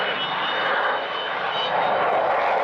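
A propeller aircraft drones past overhead during an air display, a steady loud engine roar that swells slightly as it goes by, with no voices.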